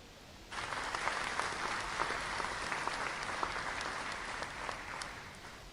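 Scattered golf-style applause from a small crowd in the hunting game theHunter Classic, starting abruptly and continuing steadily at moderate volume, with individual claps standing out.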